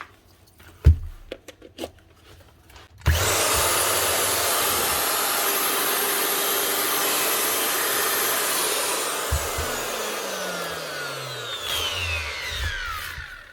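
A Makita 9069 9-inch angle grinder, repaired and modified, starts up after a few handling knocks and whines loudly at a steady high pitch, then winds down slowly as it coasts to a stop.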